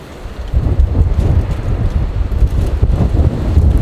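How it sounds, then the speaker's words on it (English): Strong wind gusting outdoors in Tennessee, buffeting the microphone with deep rumbling roar that swells and eases continuously, no voices. "It is so windy."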